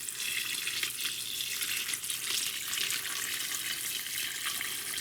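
Water poured steadily from a bucket into a small worm compost container, a continuous splashing, hissing stream that stays close and fairly even from start to finish.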